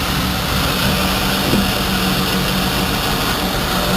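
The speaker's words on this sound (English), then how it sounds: "We now have two engines that purr." Twin engines aboard a Bayliner 3270 boat, running steadily after a Rochester carburetor repair, give a loud, continuous low hum with a faint tonal drone throughout, no talking.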